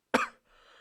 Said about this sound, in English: I don't know why I'm coughing so much.